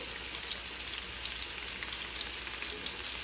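Honey butter ribs coated in flour frying in a pot of hot oil, giving a steady, dense sizzle that holds even and close for the whole stretch, with no voices over it.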